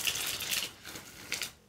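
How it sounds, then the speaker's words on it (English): Quick crisp riffling and snapping of cards being shuffled, a couple of short bursts close by. "I'm just going to shuffle the cards a little bit more."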